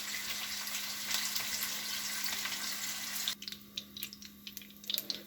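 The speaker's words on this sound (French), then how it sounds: "on va faire revenir nos oignons pour commencer notre sauce" Onions fry for a sauce with a steady hiss that breaks off partway through, followed by quieter scattered crackles and small clinks up close. Nobody speaks.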